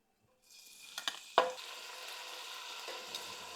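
Pancetta hits warm oil in a pan on a gas burner, a sharp crackle at the drop followed by a steady, soft sizzle with a few faint clinks of handling.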